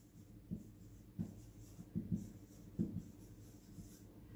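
Chalk or a marker taps and scratches on a classroom board in short irregular strokes, soft and close, with no speech.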